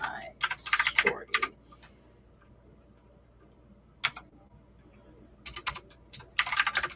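Bursts of rapid clicking keystrokes on a computer keyboard come in uneven flurries separated by quiet pauses, close and crisp, with no talk over them.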